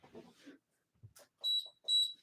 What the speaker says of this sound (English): If you hear a beep, that just means that essentially this is all heat up and ready to go.